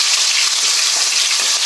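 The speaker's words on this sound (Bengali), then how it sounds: "এই যে কোয়েল পাখির বাচ্চাগুলো ভাজা নিতেছি।" Quail chicks, rubbed with turmeric and salt, fry in hot oil with a steady, dense sizzle and crackle that fills the short stretch without letup.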